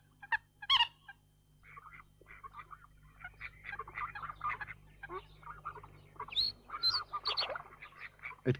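Wild mallard ducks quacking along a reed-fringed waterside, a series of nasal calls in short bursts, some near and loud, others softer, with occasional sharper cries and quiet stretches between.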